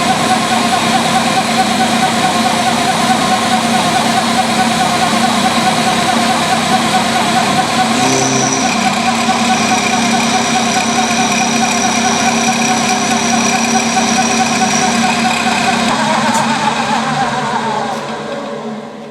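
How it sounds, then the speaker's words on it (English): A brand new carbide cutter on a milling machine cuts gear teeth, making a loud, steady, close droning whine with a dense, even grind that holds for most of the time before tapering off near the end. "This is a brand new carbide cutter. It's cutting this stuff, no problem at all."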